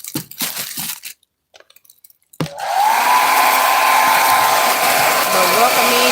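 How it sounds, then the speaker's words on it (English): After a few crackling, crunching handling sounds and a short quiet gap, a blow dryer switches on and runs loudly and continuously nearby as shrink wrap is heated. "Hopefully y'all can hear that over this blow dryer"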